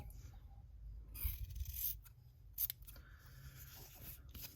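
Scissors trimming fabric quilt pieces, a few close, crisp snips and blade scrapes spread over a few seconds against a quiet, low background hum.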